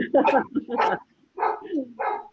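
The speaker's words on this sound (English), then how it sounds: "The dog barking." A dog gives four short, sharp barks in two pairs with a brief pause between them, fairly close and loud.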